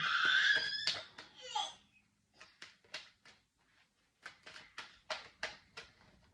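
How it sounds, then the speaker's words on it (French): A young boy screams loudly at first, then someone speaks quietly over the rest of the clip. "Excusez-moi pour mon fils qui crie."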